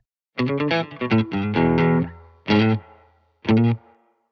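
Electric guitar through an amp with a vintage spring reverb effect, a quick run of plucked notes followed by two separate struck chords, each ringing out alone with a short decaying tail.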